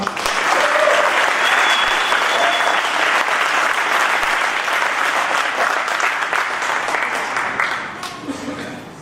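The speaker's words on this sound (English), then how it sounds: "Let's have a round of applause for all." A middle school graduation audience gives loud, sustained applause from a large crowd, holding strong before gradually thinning out near the end.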